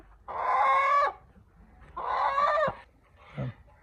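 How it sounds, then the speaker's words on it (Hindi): A desi chicken clucks in three bursts, the first two long and loud and the third short and fainter, with nothing else in the background. "देसी मुर्गा हमने पकड़ लिया है"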